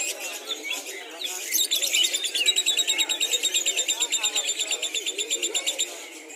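Caged songbirds chirp and trill in rapid, repeating bursts at a bird-singing contest, fairly close and steady, with people talking in the background.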